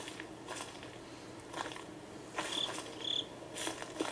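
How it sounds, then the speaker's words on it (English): A cricket chirps in the dark night woods of the Slender horror game, faint scattered clicks with a few brief, sharper high chirps near the end over a quiet hiss. "I don't like that cricket. What does the cricket mean?"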